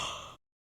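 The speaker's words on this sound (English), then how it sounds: "Now yawn." A person yawns during a vocal resonance exercise, making one short, breathy, close exhale heard alone that cuts off abruptly.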